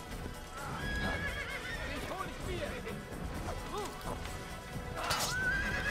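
A horse whinnies loudly amid clattering hooves and crashing game effects in Assassin's Creed, with someone talking over the action.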